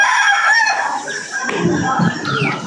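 A rooster crows loudly and close by, a long harmonic call, then settles into rougher clucking and rustling noise for the rest of the moment.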